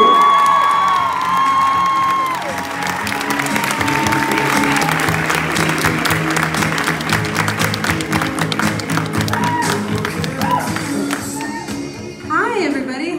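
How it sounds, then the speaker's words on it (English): An audience in Chicago applauds and cheers as actress Cara Buono is welcomed, loud sustained clapping with whoops from a large crowd and an amplified voice over it, fading near the end. "Please give a round of applause for Cara Buono!"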